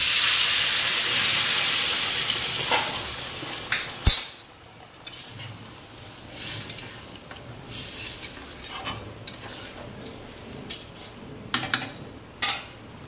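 Water hits a hot pan of fried rita fish and cooked spice paste, sending up a loud sizzling hiss that fades over several seconds, followed by scattered clinks and taps of a utensil against the pan.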